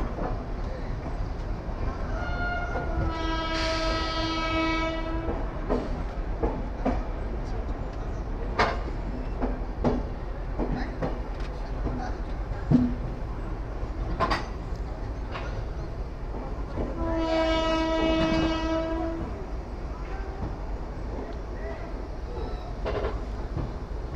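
Passenger train rolling into Asansol station on its last stretch, with a steady rumble and clatter under recurring horn-like tonal bursts; faint voices are audible at times.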